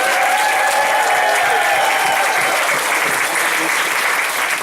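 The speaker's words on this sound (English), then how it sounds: "Y'all hoop and holler and give them a big clap." A church congregation at a cowboy church service claps and cheers loudly, a dense continuous wash of applause with hollering voices mixed in, filling the room without a break.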